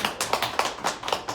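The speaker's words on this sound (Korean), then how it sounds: "우리 큰 박수로 환영해 드릴까요?" A church congregation claps in welcome for a returning member, a close, brief run of loud, evenly spaced claps with no talk over it.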